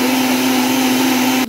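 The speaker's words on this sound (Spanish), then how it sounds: "esto lo vamos a licuar" A kitchen blender whirs steadily, blending a roasted chile sauce for beef picadillo with vegetables, a loud constant motor drone that cuts off abruptly at the end.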